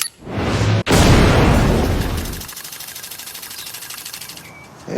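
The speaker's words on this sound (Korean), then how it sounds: "부처는 폭탄 스위치를 눌러 자폭하는데" A bomb explosion in The Boys TV series, a loud sudden roaring blast that rumbles and fades into a long crackling, rattling debris tail.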